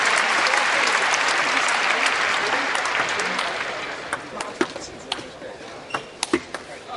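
A stadium crowd at a world table tennis championship match in Rotterdam applauds loudly, the clapping fading over several seconds into scattered claps and sharp ball or paddle knocks near the end.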